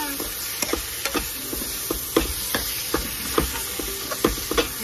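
Eggplant cooking in a pan for ginisang eggplant with egg, a steady close sizzle with repeated scraping stirs of a utensil against the pan at an even rhythm.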